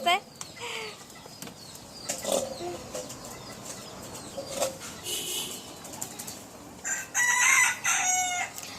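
Chickens in a backyard flock crow and cluck near the microphone, with scattered calls, a burst of wing flapping and several loud crows toward the end, over a quiet background.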